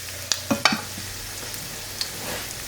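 Chicken frying in oil in a pan, with a steady low sizzle and a few sharp pops and spits near the start, close and fairly quiet, with no talking.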